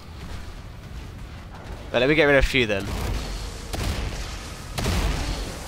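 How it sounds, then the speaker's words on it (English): Cannons fire in the Attack on Titan video game, giving a few low booms amid game effects. Someone talks over them. "Wait, I've got to use the cannons."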